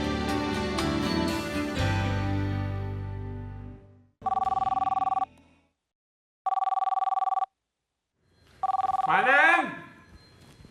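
A telephone rings in repeated steady electronic bursts with silent gaps, after a stretch of music, with a voice calling out over the last ring.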